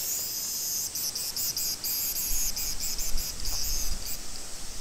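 Cicadas droning through a Japanese summer, a steady high-pitched buzz pulsing in rapid repeated bursts, loud and continuous, with a low rumble creeping in beneath partway through.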